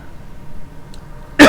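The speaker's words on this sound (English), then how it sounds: "All I've got left is this cough, but it's nagging and it's going to blow your speakers out" A single loud, harsh cough from someone with a lingering head cold bursts out abruptly at the very end, after a quiet, near-silent stretch of room tone.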